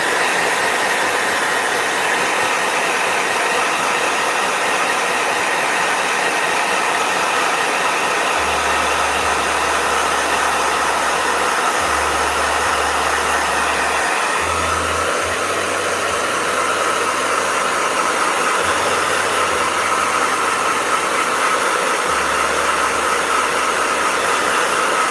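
A blow dryer whirs in a steady, broadband rush that stays fairly loud and constant throughout, with a low intermittent hum layered underneath partway through.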